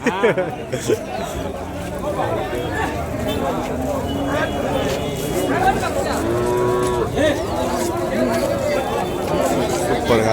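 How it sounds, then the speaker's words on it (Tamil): Native cattle moo repeatedly at a busy cattle market in Vaniyambadi, long calls rising over a constant crowd hubbub and nearby chatter. "இன்றைக்கி நாட்டு மாடுங்க நிறைய அந்த லைன் லைனாக பிடிச்சிட்டு வந்திருக்காங்க"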